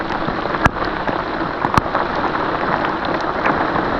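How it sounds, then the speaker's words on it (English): Heavy rain pours steadily in a dense, hissing wash at a paddle-boarding campsite in Killarney, Ontario, with occasional louder drops striking close by. "We're trying to back up and it is pouring"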